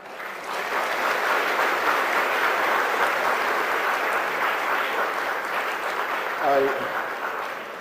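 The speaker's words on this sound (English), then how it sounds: "Please join me to give him a big round of applause for His Excellency President." A university lecture-hall audience at a royal law school breaks into sustained applause for a visiting president, a dense steady clapping that fills the room at full strength and swells briefly near the end.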